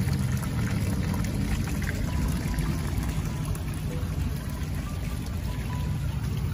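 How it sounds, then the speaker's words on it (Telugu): A small decorative water fountain beside a black Buddha statue in a home décor store trickles and splashes continuously, a close, steady pouring wash without talk. "దీని పక్కన ఇది ఒక వాటర్ ప్లాంట్ కూడా పెట్టారు"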